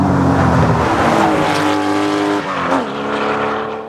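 A Growler car drives with a loud, sustained engine roar that climbs and shifts pitch steadily throughout, with a brief dip partway through before the engine note rises again, alone and close.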